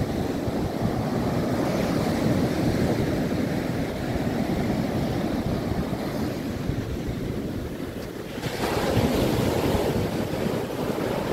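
Ocean surf roars continuously at the sea near Mithbav, waves breaking in a dense wash with wind buffeting the microphone, swelling louder near the end.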